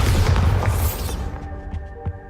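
A Bombarda spell detonates in Hogwarts Legacy, giving a loud, close, low booming blast that rolls for about a second and then decays into a humming, ringing tail, with no talk.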